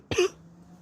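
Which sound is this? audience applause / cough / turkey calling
cough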